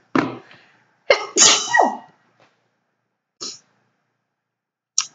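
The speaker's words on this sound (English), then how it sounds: "Been sneezing so much today." A person sneezes and coughs in a quiet room, with a few sharp explosive bursts close up, some in quick pairs, separated by silence and no talk.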